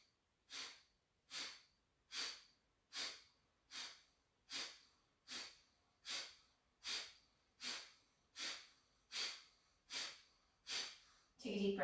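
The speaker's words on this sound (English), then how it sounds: "Take a deep breath in." Deep rhythmic breathing during a fiery flow yoga practice, about fourteen even breaths spaced under a second apart, each a soft airy swell close to the listener, with no talk over them.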